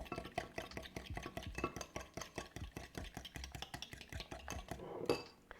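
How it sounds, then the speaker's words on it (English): A whisk beats raw sugar into a pudding mixture in a bowl, producing quick, regular clinking strokes against the bowl at a steady rhythm, close and clear, with no talking. "So we'll whisk that through."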